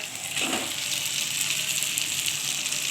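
Small whole potatoes dropped into a pan of chicken cooking with poppy seed paste, a brief thud followed by a steady, moderate sizzle that carries on close by with no talk.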